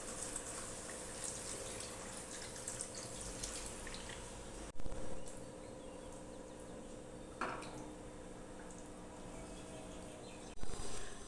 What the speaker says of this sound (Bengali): এবার এতে আমি পরিমাণ মতো জল দিয়ে দেবো।